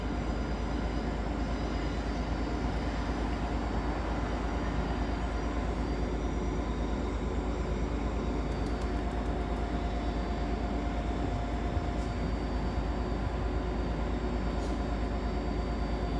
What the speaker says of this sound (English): there's a train passing there next on the other side at the same time this will leave